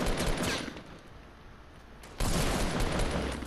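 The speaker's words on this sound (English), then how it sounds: "Fireworks. I like the graphics on them." Fireworks bursting in Fortnite Battle Royale, a dense, loud crackling barrage of rapid pops that eases slightly in the middle and then surges back louder, with no talking.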